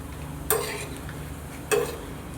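A tempering of chana dal, mustard seeds, urad dal and cumin crackles in a pan for palak pappu. Two short, sharp sizzling bursts stand out over a quiet kitchen background, with no talking.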